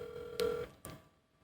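A FaceTime video call's ringing tone plays faintly, with a short electronic tone and two brief clicks or chimes, with no talk.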